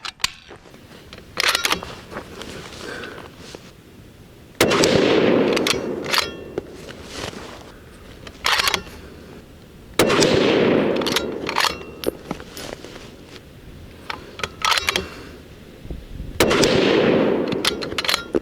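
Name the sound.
rifle shots firing Berger 185 grain Juggernaut .308 Winchester bullets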